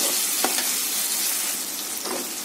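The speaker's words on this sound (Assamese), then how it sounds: "এতিয়া মই ইয়াতে পনীৰখিনি দি দিম এয়া পনীৰখিনি দিলোঁ আৰু এতিয়া লৰাই দিম" Paneer frying in a pan with a steady hiss of sizzling oil, interrupted by a few scraping strokes of stirring, close and fairly loud throughout.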